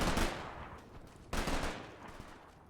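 Medium machine guns fire in the Combat Mission: Black Sea war game: two loud, dense bursts of rapid shots, the second starting just after the first fades, with no voices.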